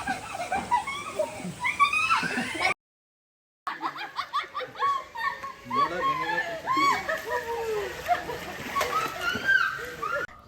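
Splashing water and sloshing as someone plunges into a resort swimming pool, mixed with laughter and excited voices nearby, with a short silent gap partway through.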